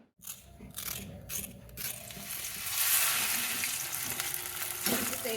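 Mushroom starter pieces fry in a pan with ginger-garlic paste, a close sizzle that swells louder midway, mixed with scraping stirs and a few clattering knocks.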